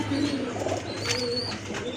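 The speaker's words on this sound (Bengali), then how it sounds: "এটা হচ্ছে আপনার ডাবল পট্টির কবুতর খুবই সুন্দর" Double-barred domestic pigeons at a market stall give low, rolling coos that run steadily through the two seconds, fairly close and mixed with background murmur and faint chatter.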